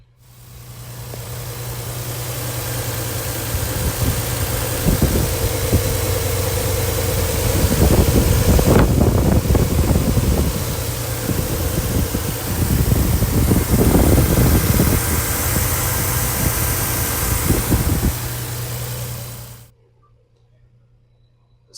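A 1995 Mercedes-Benz E320 convertible engine runs steadily with a constant hum and fan-like whir, swelling in a couple of louder stretches before cutting off abruptly near the end.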